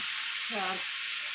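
Tempering spices sizzle in hot oil as a constant bright hiss, with a brief voice rising over it midway.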